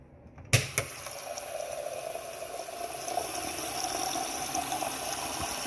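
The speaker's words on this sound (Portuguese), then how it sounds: "Hoje é dia de colocar água num copo de vidro." Water poured into a glass tumbler, opening with a couple of sharp clinks and then a steady splashing stream that gradually rises in pitch as the glass fills, close and fairly quiet with no talking.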